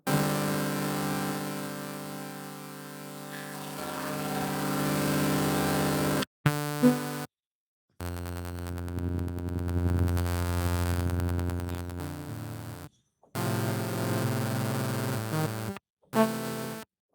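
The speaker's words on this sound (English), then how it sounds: "the last pad is drive. So basically saturation and distortion" Harsh, buzzy synthesized tones crunch and grind with heavy saturation and bit-crush distortion, cutting in and out in several bursts separated by abrupt silences.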